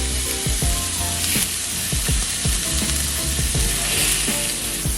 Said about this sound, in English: If you don't hear that sizzling sound, do not put the steak in.